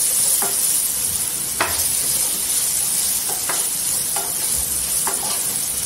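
Okra (bhendi) sautéing in hot oil in a pan for a quick fry, a steady close sizzle with several distinct scraping stirs from a spatula at irregular intervals, no talking.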